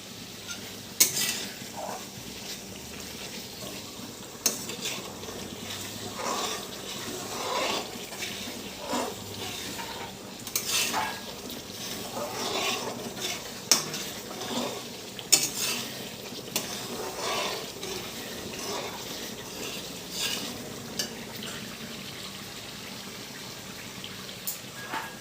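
Kitchen sounds of stirring in a pan while cooking a meat roast, with scraping spoon strokes, clinks of utensils and a watery background hiss, steady for about twenty-five seconds with no talk.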